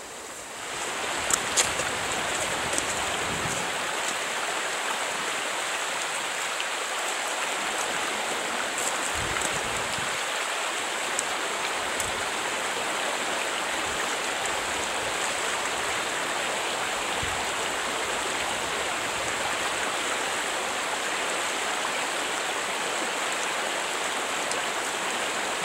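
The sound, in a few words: stream of water flowing over sand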